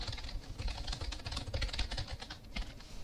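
Steady, fast typing on a computer keyboard, close and continuous, with dense clicky keystrokes and no voice over it.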